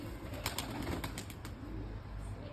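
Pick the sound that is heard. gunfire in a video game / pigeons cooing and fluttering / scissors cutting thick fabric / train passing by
pigeons cooing and fluttering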